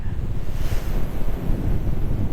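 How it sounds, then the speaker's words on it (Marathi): Strong, steady wind roars and buffets the microphone in a foggy mountain pass near Amboli during a motorbike ride, a dense low rumble with gusts filling the whole stretch, with no other sounds. "आणि असं गार एकदम वारा मारतोय ना"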